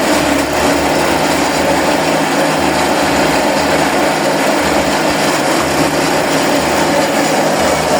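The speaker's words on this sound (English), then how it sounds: "So now we've started the machine." A cassava grinding machine for garri production roars loudly and continuously close by, a harsh high-pitched engine drone with a slight pulsing rhythm underneath.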